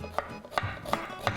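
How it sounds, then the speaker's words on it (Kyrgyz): Knife slicing onions thinly lengthwise on a cutting board for plov, four crisp evenly spaced chopping strikes, close and clear, with no talk. "Пиязды жука кылып узун-узундан туурап алабыз."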